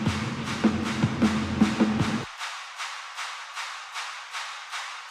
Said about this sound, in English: the clap and the live drums that sound like this